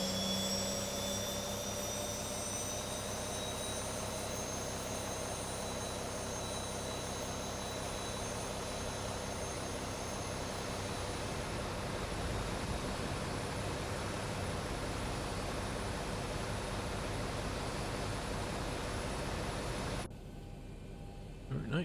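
A simulated airliner jet engine spools up during engine start in the X-Plane 12 flight simulator, a steady loud roar with rising whine and hiss that holds for about twenty seconds before cutting back.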